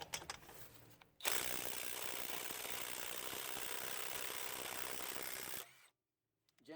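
A cordless Gen 2 impact wrench driving a socket adapter to break a nut loose, a loud, rapid hammering burst lasting about four seconds, starting abruptly and stopping cleanly, with faint handling sounds before and after.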